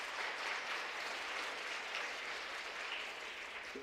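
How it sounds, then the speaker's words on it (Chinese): A church congregation at a Sunday service applauds warmly to welcome a pastor, giving steady, dense clapping throughout that fades slightly at the end. "我们用热烈掌声来欢迎刘牧师"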